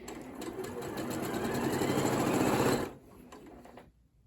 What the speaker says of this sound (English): worked up to the fast speed that I had my sewing machine set to